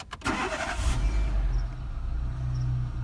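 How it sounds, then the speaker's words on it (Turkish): A Renault Megane 3 / Fluence cranks briefly with a couple of quick starter bursts, catches with a loud roar, then settles into a steady low idle, heard close up. "Çalıştırıyorum arabamı."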